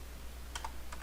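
Computer keyboard typing during a network lab setup, a few quick clustered keystrokes in two short bursts, close and fairly quiet over a steady low hum.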